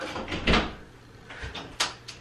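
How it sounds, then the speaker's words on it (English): Bathroom door opening in an echoey room: a soft thud and creak near the start, then lighter knocks and a sharp click a moment later, close and moderately loud. "Let me actually open the door, maybe that'll help."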